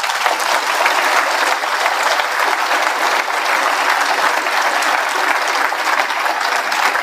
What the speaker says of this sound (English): So I'd like to applaud Mark and his family.